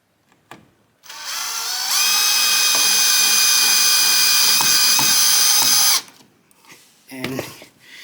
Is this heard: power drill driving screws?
yes